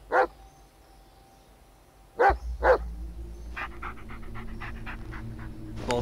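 A dog in the video game Blair Witch gives a few sharp, close barks, then pants rapidly and whimpers softly over a low ambient rumble.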